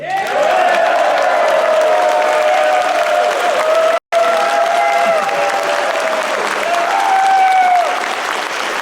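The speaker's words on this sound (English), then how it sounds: "a round of applause for Trey" Audience applause for a reporter at a political talk, a loud sustained wash of clapping with a raised tone and some crowd noise, briefly cutting out midway before carrying on.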